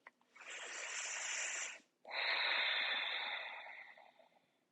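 Slow, deliberate breathing during a yin yoga hip pose: two long, airy breaths close to the mic, the first easing off before a short pause and the second fading gradually, with no talking.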